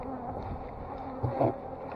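Steady insect buzzing fills the air, a dense continuous drone of many bees with a slightly louder swell near the end.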